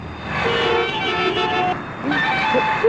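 Car horns toot briefly amid steady road traffic noise, with several short honks rising over the rumble of passing vehicles and a busy street.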